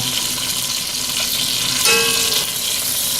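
Chicken frying in hot oil in a pan, a loud continuous sizzle with a brief stirring clatter partway through, no talk.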